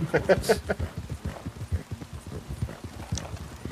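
Horse hooves clip-clop in the Western video game Red Dead Online, a fast run of close, loud beats at the start that settles into softer, steady steps.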